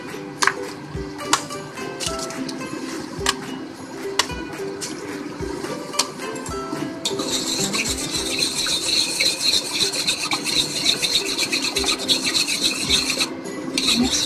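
Repeated scraping and clinking of a utensil against a pan while stirring pancit batil patong noodles with egg, with a sizzling hiss rising halfway through as the mixing continues.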